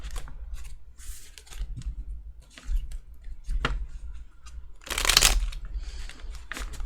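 Tarot cards are shuffled in short, soft riffles and slides, close up, with a louder burst of shuffling partway through.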